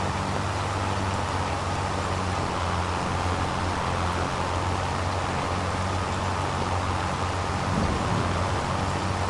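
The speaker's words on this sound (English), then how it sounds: "rain ends soon because it's kind of pissing me off" Steady rain falls over farm fields, a dense, even hiss that holds without a break, with a faint low rumble beneath and no voices.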